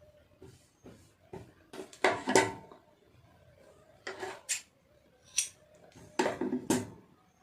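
Scissors cut through blouse fabric in a few short bursts of snipping, close and fairly quiet, with brief pauses between the cuts and no one talking.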